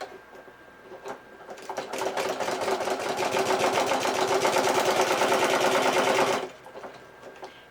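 A sewing machine stitches a purse, starting after a quiet moment, then running at a fast, steady rattle for about four seconds before stopping abruptly.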